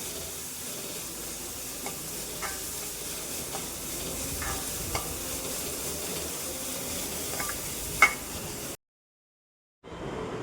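Jackfruit seed oats upma sautéing in a pan, a soft continuous sizzle with occasional light scrapes and taps of a spoon, then a brief gap of silence near the end before the sizzle resumes.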